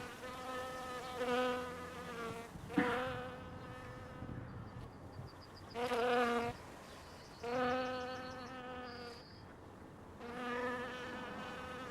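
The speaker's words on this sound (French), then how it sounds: "Des frelons, des bourdons et surtout des abeilles." Bees, bumblebees and hornets buzz around flowers in the countryside, several droning passes swelling and fading close by, with quieter gaps between them.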